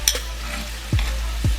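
Shrimp sizzle in a hot frying pan for shrimp fried rice, with steady frying hiss broken by two soft scraping flips of a utensil against the pan, close and clear with no talking.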